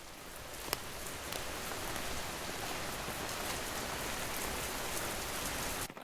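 Heavy rain pours down steadily at night, a dense unbroken wash of drops drumming on surfaces, loud and close throughout, with one brief sharper crack near the start.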